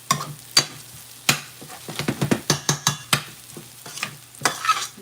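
Spam fried rice crisping in a pot, a soft fry underneath a run of sharp spatula scrapes and knocks against the pot in an uneven rhythm, close by with no talking.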